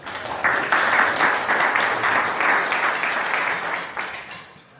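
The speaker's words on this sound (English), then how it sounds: "Let's clap Armin first." A crowd applauds steadily for several seconds, a dense wash of clapping that tapers off at the end.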